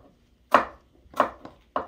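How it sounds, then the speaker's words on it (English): Knife chopping apples into bite-sized pieces on a board: three crisp, close chops with a fourth lighter tap between, spaced about half a second apart over near silence. "I'm going to begin by cutting up my apples into bite-sized pieces."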